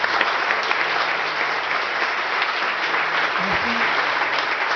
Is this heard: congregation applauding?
yes